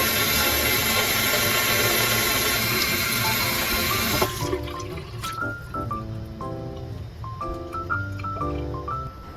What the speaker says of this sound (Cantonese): 咁豬脊骨飛完水之後呢，就用清水沖返乾淨嘅，然後備用。